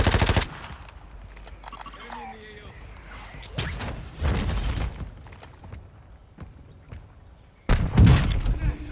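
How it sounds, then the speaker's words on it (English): Sniper rifle gunfire in a Call of Duty: Modern Warfare II match, sharp cracks heard at the start and again near the end, with quieter battlefield noise and talking voices in between. "That sniper just shot at me again"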